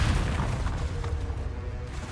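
Bombarda blasting spell exploding in Hogwarts Legacy, a dense rumbling boom with crackling debris that sustains loudly across the whole moment, low-heavy and close.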